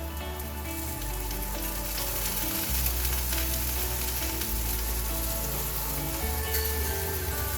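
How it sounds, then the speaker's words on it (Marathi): Banana slices frying in oil in a pan, a steady bright sizzle and crackle that runs continuously at moderate closeness, with faint stirring or pan movement beneath. "हे आपले दोन्ही साईडने व्यवस्थित फ्राय झाले की आपले हे केळ्याचे काप रेडी आहे"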